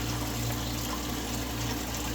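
Steady water flowing through an aquarium float valve as it tries to shut off, a constant close rushing hiss with a low hum underneath, no talk.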